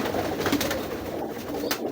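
Breeder pigeons coo softly and close by in a loft, a low throaty burbling that runs through the brief moment with faint background noise and no speech.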